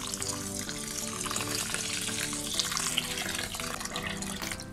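Warm water runs steadily into a pot of soaking rice, a continuous close splashing and trickling pour for several seconds with no talking.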